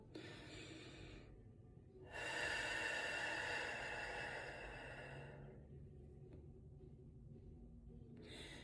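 A person performs a breathing exercise, taking a deep, long breath followed by a slow, airy exhale with short pauses between, close to the microphone and soft, with no speech.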